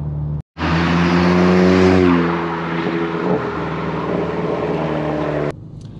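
A Stage 1 remapped Golf GTI Edition 30 engine revs hard under acceleration on the road, a loud continuous rising drone with a brief cut, then steady engine roar with crackles and pops as gears change.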